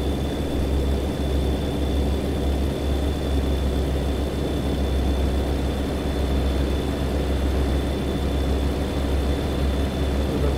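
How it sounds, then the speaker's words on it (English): Steady low engine drone of a jet airplane passing overhead in the American Truck Simulator game, a continuous rumble holding at even loudness throughout with a faint high whine above it. "With a big old jet airplane."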